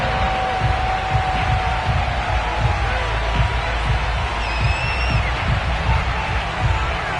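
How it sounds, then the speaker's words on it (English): A sold-out stadium crowd roars steadily in an EA Sports football video game as the Bills face the Houston Texans, a dense continuous wash of cheering with scattered whistles throughout. "a moment ago they entered to the delight of this sold-out crowd"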